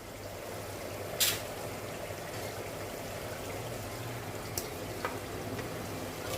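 Chicken pieces fry in oily masala inside a pressure cooker, a steady close sizzle with a few sharper crackles and spits, no voices.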